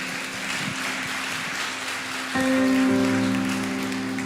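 A church congregation claps in a dense, steady wash of applause, and partway through a sustained keyboard chord swells in over the clapping.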